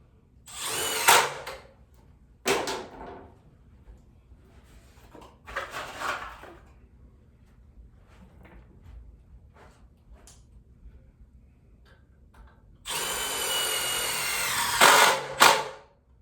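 Power drill driving screws into a wall at a framing setup, several short close bursts of whirring with quiet gaps, ending in a longer, louder run of drilling.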